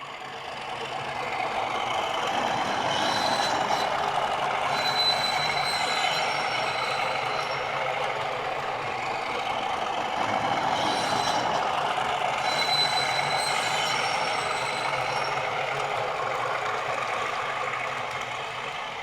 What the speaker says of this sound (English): automatically triggers the flange squeal sound